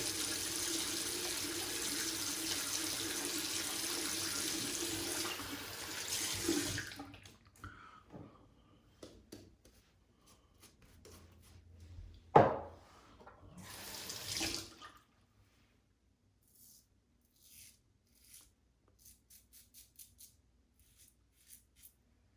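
Water from a bathroom sink tap runs steadily while a Paradigm Diamondback razor is rinsed, then stops; a brief louder splash and another short burst of running water follow, ending in quiet drips and small taps.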